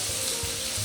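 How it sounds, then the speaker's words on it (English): Chicken breasts sizzle on a grill in a steady, dense frying hiss, close and continuous for a brief moment, with no talking. "I have the first 2 chicken breasts done, 2 more on the grill right now"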